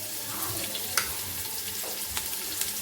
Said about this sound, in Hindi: चिकन को मैंने इसमें फ्राई करते हुए 2 से 3 मिनट हो गए